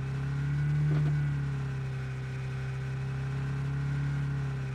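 Car engine in the battle royale video game PUBG Lite, a steady mid-pitched drone held at constant revs, swelling slightly once near the start and running alone without talk.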